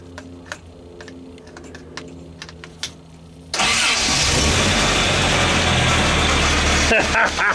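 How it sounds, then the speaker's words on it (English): A Toyota 4x4 engine cranks and catches with the ignition key after a few quiet clicks, then settles into a loud, steady idle with a rattle from low power steering fluid. "I've got my starter key and the ignition here. I'm going to go ahead and turn it on."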